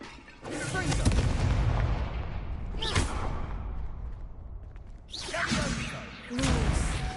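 Harry Potter Confringo blasting-curse spell effects: loud, booming explosive blasts with whooshing swishes and crackling bursts, rumbling heavily in the low end, with several separate hits across the stretch.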